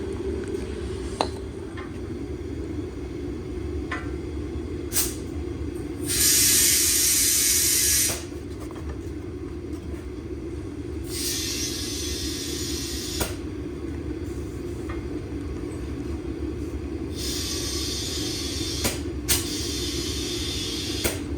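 Compressed air hissing into a tire mounted on a beadlock wheel, with several separate loud bursts of rushing air between quieter stretches of low mechanical background.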